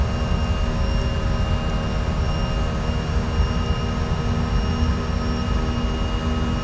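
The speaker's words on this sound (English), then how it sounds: "those engine sounds are golden" Airbus A320neo jet engines from a flight simulator sound pack, a steady, dense cockpit roar with a constant whine, running evenly throughout without speech.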